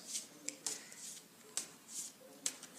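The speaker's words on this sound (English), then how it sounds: "I then begin to shuffle the deck." Soft, close tarot card shuffling: repeated quiet riffles and slides with small taps as the cards are handled, fairly faint.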